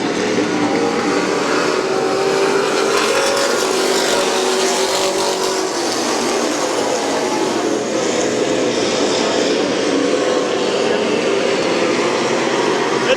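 Stock race cars roar around Midvale Speedway in a continuous loud engine drone that swells and fades as the pack passes, with a track announcer talking over it.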